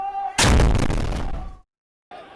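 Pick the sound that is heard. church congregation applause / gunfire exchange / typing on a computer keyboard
gunfire exchange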